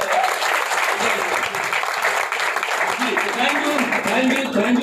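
Audience in a meeting at a hotel applauds continuously, with a dense, loud clapping that lasts the whole stretch while a few voices sound faintly underneath.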